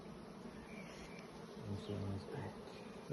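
Honeybees buzzing at an opened hive, a faint close hum with a few bees droning past louder for a moment.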